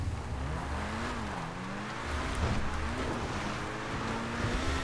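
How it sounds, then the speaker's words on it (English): A Bugatti Bolide addon car in a video game drones steadily, its engine pitch rising and falling through revs over a continuous roar, with no talking. "Bugatti Bolide"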